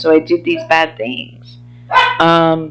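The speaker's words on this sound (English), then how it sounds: "I apologize for the dog barking." A dog barks in sharp, loud yips at the end after a person talks, the barks close and overlapping the last of the speech.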